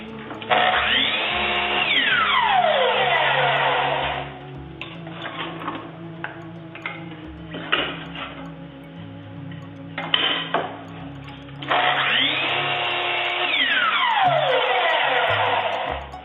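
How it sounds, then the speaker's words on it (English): A chop saw cuts the ends off a small wooden workpiece: two loud whining passes, each spinning up and winding down, with a quieter stretch of clatter and handling between them and no talk. "Now I'm going to make one cut off of each end of the workpiece."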